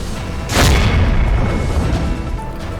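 Firecrackers set off by party workers at a street celebration in Gorakhpur, India, give one loud boom burst near the start, followed by a continuous rumbling crackle and crowd noise.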